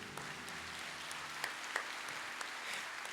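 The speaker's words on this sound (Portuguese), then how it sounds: "Aplauda a palavra de Deus." A church congregation applauds during a Portuguese-language sermon, a faint, continuous wash of scattered clapping with a few sharper claps standing out, heard from a distance.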